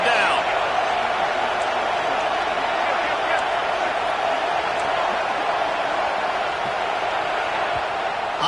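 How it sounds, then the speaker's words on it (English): A stadium crowd in an American football video game roars as the defense lines up on third down, a dense, steady wash of loud cheering that holds without a break from start to finish. "Decibels rising as the crowd gets behind this defense on 3rd down."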